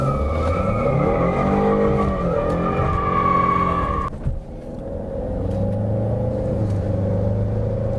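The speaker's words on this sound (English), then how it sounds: "Burning rubber, burning rubber, burning, burning, burning, burning rubber." A Ford Mustang EcoBoost burns rubber, its engine revving loud and close while the tires squeal continuously, then the pitch drops as the revs ease off into a lower sustained roar.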